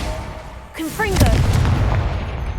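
A Confringo fire spell blasts in the Hogwarts Legacy video game, a sudden booming burst with a brief whooshing sweep, followed by a sustained rumbling roar that holds steady to the end.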